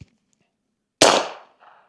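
A single suppressed .300 Blackout shot from a bolt-action rifle fitted with an Obsidian 9 suppressor: one sharp, loud report that decays quickly, followed by a faint metallic ping a moment later.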